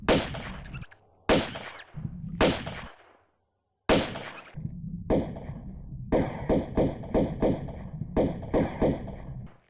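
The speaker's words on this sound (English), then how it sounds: "when you fire your guns, the gunfire sounds muffled" Dull gunshots thud in bursts, muffled because they are fired above water while the player character is underwater in Tomb Raider 2: first a few separate shots, then a rapid string of repeated muffled bangs.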